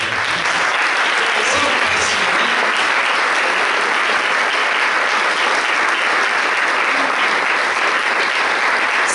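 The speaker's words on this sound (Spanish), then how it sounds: "Dale un aplauso a Cristo, por favor." A church congregation applauds in sustained, dense clapping that stays loud and steady throughout, with no speech over it.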